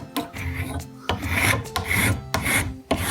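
A sharpened hand carving tool shaves fine curls from a wooden walking stick, loud rasping scrapes in four or five distinct strokes, each a few tenths of a second apart, close up with no talking.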